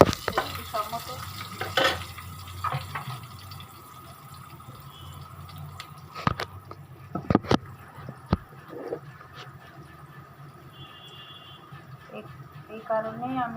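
Chicken with potatoes and cauliflower is fried in a little oil in a pan, with soft sizzling and intermittent stirring clanks and scrapes while a voice talks over the cooking.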